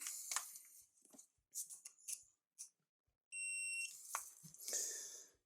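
A continuity tester gives one steady, loud electronic tone lasting about half a second, close to the listener. It stands out among scattered clicks and rustling during work on an S-Plan heating system.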